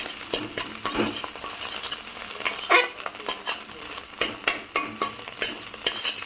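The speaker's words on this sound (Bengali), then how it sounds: "এই দেখো ডিমটা এইভাবে ভেঙে ভেঙে দেবে, তাহলে ডিমের ভুজিয়াটা হয়ে যাবে" A spatula scrapes and taps steadily through egg frying in a pan for egg bhujia, quick rhythmic stirring clicks over a continuous soft sizzle, close and fairly quiet.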